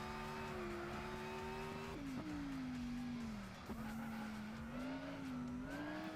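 Ferrari Enzo in Gran Turismo 6 drifting with sustained tire squeal over a steady engine drone, the pitch wavering as the slide continues, faint and without talk.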